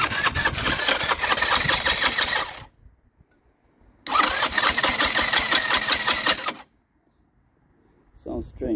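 A Baotian BT125T scooter engine cranks and catches in two loud bursts of a couple of seconds each, separated by silence, with a short third start at the end; the rattly, buzzing running note suggests a rough-sounding engine.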